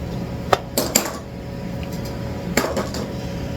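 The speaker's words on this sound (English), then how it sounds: "So we'll take these clamps off of here." Metal clamps are taken off a glued wooden toy tank car, giving a few sharp clanks and clicks at irregular intervals in a quiet workshop.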